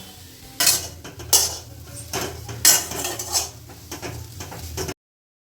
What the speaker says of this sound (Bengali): এইভাবে কিছুক্ষণ ধরে আমরা শাকটা ভেজে নেবো